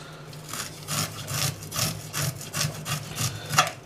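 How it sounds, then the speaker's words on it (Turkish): A knife scrapes scales off the underside of a small sole, making quick, rhythmic rasping strokes, about two per second, close and steady with no talking. "arka tarafındaki yani toprağa değen yüzündeki pullarını temizlediğiniz zaman"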